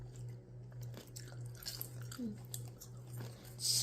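Someone chews homemade French fries up close, giving soft, moist crunching and squishing bites in an uneven rhythm over a low steady hum.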